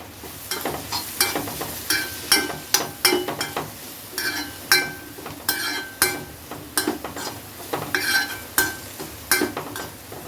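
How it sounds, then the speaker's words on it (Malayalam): A spoon scrapes and clinks against a pan while papaya stir-fry with added chili is mixed, giving repeated rhythmic strokes over a soft sizzle. The sounds are close and fairly loud, with no talking. "അല്പം മുളക് കൂടി ചേർത്തിട്ട് നല്ലോണം മിക്സാക്കി എടുക്കാം"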